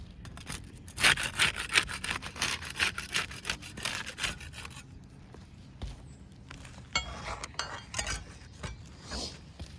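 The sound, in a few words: putty knife prying up and unsealing roof shingles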